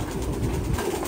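Soft, low pigeon coos rising from a pigeon farm full of caged birds, a short murmuring burst with a steady background hum.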